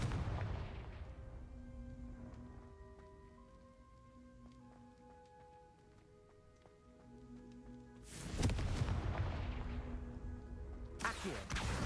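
Explosive Confringo spell cast in the video game Hogwarts Legacy, two loud broadband bursts near the end over a bed of sustained musical tones, with no talking.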